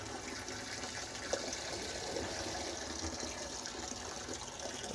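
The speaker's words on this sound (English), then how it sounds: "And I'll go ahead and start adding it while the water's still going in the reservoir." Water runs steadily into a Tower Garden reservoir, a faint continuous gushing and trickling wash with no talking over it.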